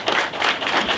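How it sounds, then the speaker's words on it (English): A round of applause at a mixer's speech and toast, guests clapping in a close, uneven patter that swells and dips over a short burst. "Give yourselves a round of applause"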